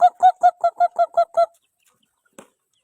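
A chicken clucks in a rapid run of eight short calls, close and loud, followed by silence and one faint click.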